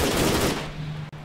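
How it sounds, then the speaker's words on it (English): Rapid automatic gunfire in the military video game ARMA 3, a loud dense burst that cuts off partway through, leaving a quieter tail. "No, they're shooting us."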